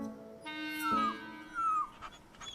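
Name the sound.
dog whimpering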